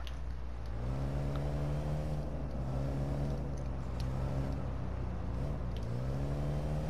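Car engine from the Watch Dogs 2 video game, a steady low drone with rising and falling revs as the vehicle drives, continuous and fairly close with no voices over it.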